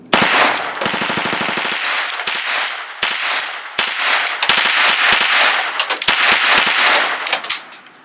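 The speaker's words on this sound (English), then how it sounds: "KR9 with a full mag of federal aluminum." A KR9 firearm empties a full magazine of Federal aluminum-case ammunition in rapid, loud, close-range automatic bursts. Strings of shots crack out in quick succession with short pauses between volleys, and no talking.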